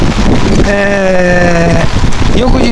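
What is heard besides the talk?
heavy downpour rain after a typhoon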